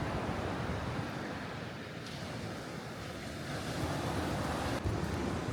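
Steady roar of ocean surf washing onto a beach at Shëngjin, Albania, at sunset, broad and continuous with a faint wind rush, no voices.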